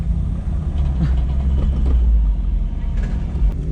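A Toyota Yaris rally car runs close by with a steady, loud engine rumble throughout, holding a low drone with faint rises that suggest it pulling away, with no clear start from silence.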